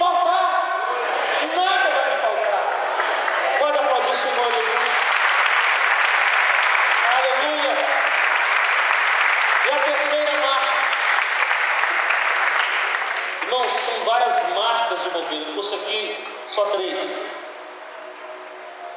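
Congregation at a church service bursting into sustained, loud applause that fills the room for most of the stretch, with voices and cheers mixed in before it tapers off near the end.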